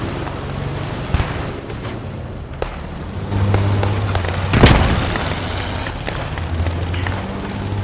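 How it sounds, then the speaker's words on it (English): A grenade goes off in the World War II shooter Post Scriptum, a heavy booming blast about midway that rises out of continuous rumbling battlefield noise, with scattered distant pops and thuds before it. "I dropped grenade."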